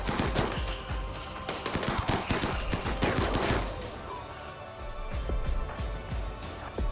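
Rapid gunfire from a fantasy video game battle against undead foes, dense bursts of loud shots and impacts crowding the whole stretch with little pause, busy game effects layered underneath.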